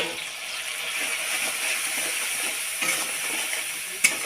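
Tomatoes cooking down with chili, ginger and cumin paste for a potol dish sizzle steadily in the pan, close and even, with a few soft stirring scrapes and one sharp knock near the end, no voices.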